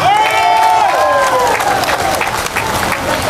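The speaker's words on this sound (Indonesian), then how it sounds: "Tepuk tangan yang meriah" A large crowd at an outdoor political declaration rally in Alun Alun Aimas applauds and cheers loudly, and a voice is audible over the start.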